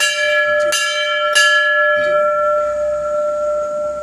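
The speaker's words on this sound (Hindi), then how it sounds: "ये घंटे की ध्वनि कर रहे हैं" A temple bell is struck twice in quick succession, its bright metallic ringing tone sustaining and slowly fading, with faint background noise and no talking.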